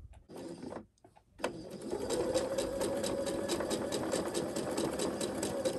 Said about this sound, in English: I'm just going to sew on just on this side of that point